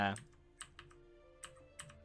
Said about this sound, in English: I have a mechanical keyboard that's extremely loud, FYI, but you can hear me